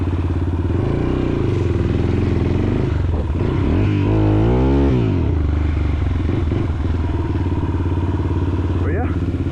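A Yamaha XT350 dual-sport motorcycle is ridden over grassy ground. Its engine hums steadily and swells briefly as it revs, heard close and under continuous talking.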